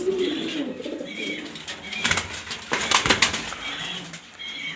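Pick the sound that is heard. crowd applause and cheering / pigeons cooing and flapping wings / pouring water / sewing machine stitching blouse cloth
pigeons cooing and flapping wings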